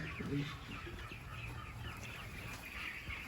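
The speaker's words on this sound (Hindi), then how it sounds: "ये जो फार्म देख रहे हैं इसमें सोनाली मुर्गे रहते हैं" Sonali chickens on a poultry farm, a flock clucking and murmuring continuously at moderate distance, with scattered individual clucks standing out over a steady background din.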